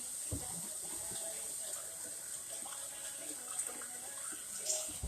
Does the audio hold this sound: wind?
no